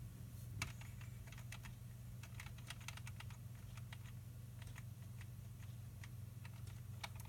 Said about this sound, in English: So let me get out of here by pressing escape.